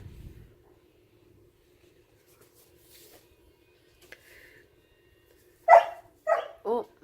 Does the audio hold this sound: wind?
no